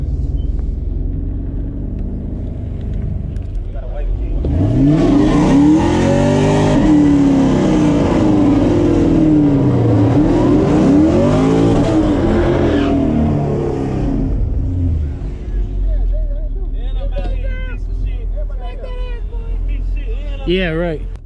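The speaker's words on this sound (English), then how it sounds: "we're about to race a Hellcat right now." Camaro SS engine roaring loudly through a drag race against a Hellcat, a sustained revving run with rising pitch sweeps as gears change, then easing off, with voices talking at the start and end.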